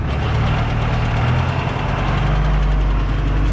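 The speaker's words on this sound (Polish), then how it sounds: "Teraz będzie pierwsze uruchomienie rozsiewacza." A tractor engine runs loud and close, a steady rumbling drone, as a KUHN fertilizer spreader is started in a field, with no talk.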